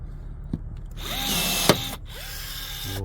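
A power tool drilling or riveting during repairs on a narrowboat, heard as a steady whine for about a second, a sharp clack, then another whirring run, close by.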